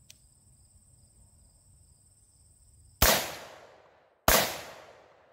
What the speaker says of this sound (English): Next, we'll be firing two rounds from the AR.